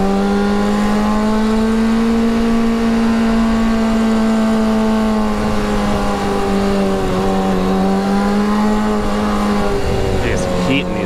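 A very loud motorcycle engine revving and holding a sustained high drone, close and powerful, with a rider talking over it throughout.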